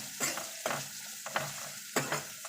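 Food fries in a pan with a soft sizzle while a utensil stirs it in several quick, close scraping bursts, with no talking.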